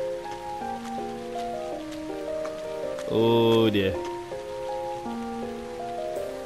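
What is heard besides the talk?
rain in the video game Trails of Cold Steel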